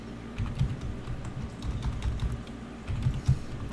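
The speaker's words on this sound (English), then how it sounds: "Go ahead and type in your super secret password." Password being typed on a computer keyboard while setting up a Hyper-V virtual machine image, with soft close keystrokes in uneven bursts and a low background hum.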